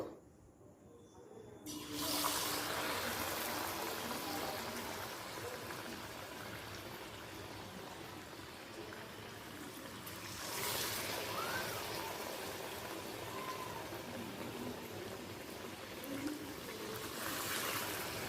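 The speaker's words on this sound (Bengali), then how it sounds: "এক একটা পুরকে বেসনে ডুবিয়ে তেলে ছেড়ে দেবো" Batter-dipped aloo chop, potato filling coated in gram-flour batter, frying in hot oil in a kadai, a steady broadband sizzle that swells as each piece goes in, close and continuous with no talk.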